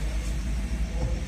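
A Honda BR-V idles in drive after a gear replacement, a low steady engine rumble close by with no speech.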